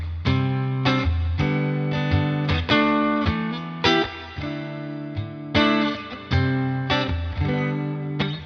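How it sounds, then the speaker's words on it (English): Telecaster with a P90 neck pickup through a NUX Ace of Tone overdrive into a Fender Deluxe Reverb setting, playing a series of mildly driven chords and note clusters that ring with sustain and reverb, each attack followed by a gentle decay. "I'm going out of the guitar into the Ace of Tone, out of the Ace of Tone into the Solid Studio Mark II from NUX on a Fender Deluxe reverb setting"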